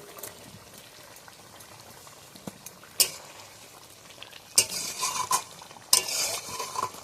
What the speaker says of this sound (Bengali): গ্রেভিটা ভালোভাবে ফুটে গেছে